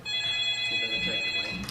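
Telephone ringing during a public consultation meeting on land ownership in Kensington, a steady electronic ring with sustained tonal lines throughout, heard through room noise with faint murmuring of people in the background.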